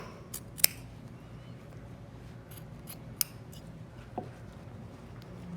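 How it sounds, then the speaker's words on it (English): Scissors snip through upholstery fabric while a chair is being reupholstered: a few crisp, isolated cuts spaced apart, close and fairly quiet against a soft room hush. "I think I'm going to clip a little bit of fabric out of there"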